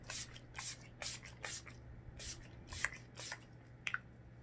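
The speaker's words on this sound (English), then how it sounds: "This is a really good setting spray," Short bursts of makeup setting spray, several quick hissy puffs in a loose rhythm, close and fairly quiet, with a couple of small clicks near the end and no talking.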